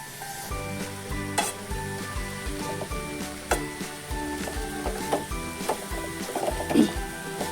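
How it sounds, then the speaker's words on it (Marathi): Raw jackfruit bhaji with turmeric sizzles in a pan while a spoon scrapes and stirs it in repeated close strokes, over a steady frying hiss and faint music in the background. "बघा हळद घातली आणि ढवळून पण घेतली मी"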